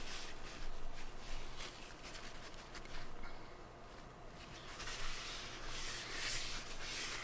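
Close, continuous scratchy rubbing as Staedtler and Koh-I-Noor watercolor pencils are grated over a silicone mat, in uneven strokes that rise and fall without pause.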